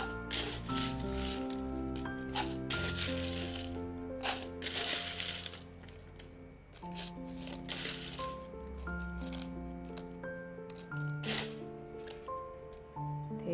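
Ice cubes clatter into a cup for an iced honey milk drink with tapioca pearls, coming in short, bright bursts of rattling and crunching, close and fairly loud, over soft background music.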